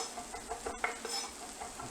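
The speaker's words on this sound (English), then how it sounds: "run my knife through that there for a second" A knife minces fresh tarragon on a cutting board, soft close chopping and scraping taps in an irregular rhythm, quiet throughout.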